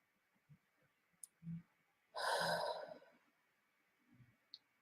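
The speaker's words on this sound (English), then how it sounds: "And I'll breathe it in again." A person breathes in deeply from cupped hands scented with frankincense oil, one long audible inhale between soft quiet rustles and small clicks of the hands.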